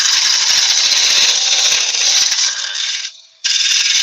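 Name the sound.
carbide cutter hollowing inside of wooden vase on lathe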